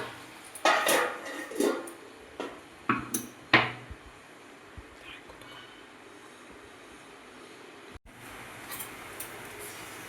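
Someone cooking leafy greens in a kitchen sets a lid on the pot, producing a few sharp metallic clinks and clatters close by, followed by a long stretch of quiet background hiss.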